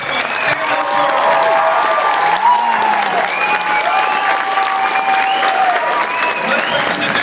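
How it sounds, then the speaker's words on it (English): Convention audience at an anime event applauding in a sustained, dense round of clapping, with some cheering and voices mixed in throughout. "Let's give them a round of applause, guys"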